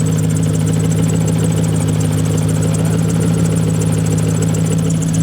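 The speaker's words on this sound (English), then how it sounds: "The car is making a funny noise. Sounds like a pulley." Car engine idling on a very cold day with a suspected pulley or water pump fault, a loud steady drone carrying a persistent whirring tone, no talk.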